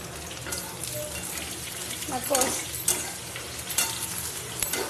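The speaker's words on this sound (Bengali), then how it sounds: "লাল লাল করে ভাজা হয়ে গেছে মশলাটা" Ground cumin, coriander, chilli powder, turmeric, salt and a pinch of sugar fry in oil in a pan, a close steady sizzle with crackling bursts and scraping as the spices are stirred, over a low background hum.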